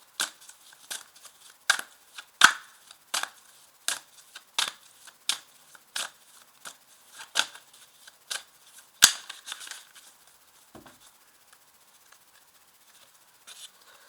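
Tarot cards are shuffled by hand in quick, crisp riffles and slaps, a dense run of sharp bursts that thins out and stops near the end, with one last flurry.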